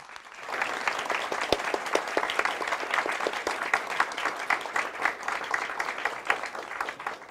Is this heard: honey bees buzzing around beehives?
no